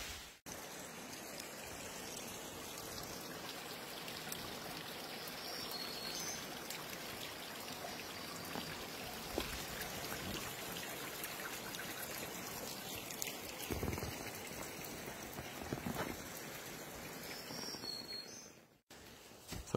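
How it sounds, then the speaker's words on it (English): Waterfall flowing down in a gorge at Lilly Bluff in East Tennessee, a steady broadband rush of falling water heard up close, continuous throughout with no talking. "This waterfall is absolutely gorgeous down in this gorge."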